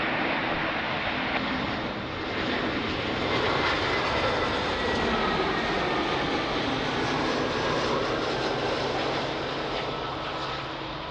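An airplane on approach to runway 02 at Lisbon Airport roars steadily at a distance, a broad, sustained engine rumble that swells slightly midway, with no talk.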